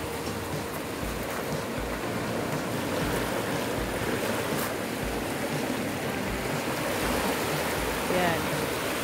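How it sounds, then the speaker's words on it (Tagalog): Waves wash steadily onto a white sand beach on Panglao Island, Bohol, a continuous soft surf hiss and rumble at moderate distance with no voices over it. "So, yan ang beach, guys. White Sand Beach."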